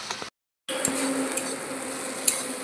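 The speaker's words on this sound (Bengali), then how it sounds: "আবার একটু নাড়িয়ে গলিয়ে নেব।" A spoon stirs and mashes softening tomatoes sizzling in a pan while cooking fresh dumur, with a steady frying hiss, light scraping and occasional metallic clinks after a brief silent gap.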